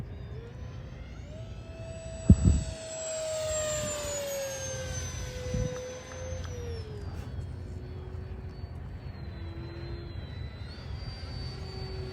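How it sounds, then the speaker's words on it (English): High-speed pass of an RC airplane aiming for 200 mph, a loud whining tone sweeping past and fading into the distance, with a brief thump near the start and steady wind rush underneath. "I'm going to give it another beans pass here"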